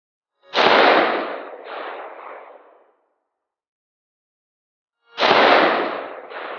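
AK rifle shots at an outdoor shooting range: two loud, close blasts several seconds apart, each a sharp crack trailing into a long rolling echo, with no voices.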